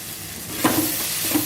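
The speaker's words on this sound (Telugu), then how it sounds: "ఇప్పుడు ఇదంతా కలుపుకొని ఒక నిమిషం ఫ్రై చేసుకోవాలి" A spiced rice mixture with capsicum, chilli powder, coriander powder and garam masala fries in a pan, giving a steady close sizzle broken by a couple of soft scraping stirs.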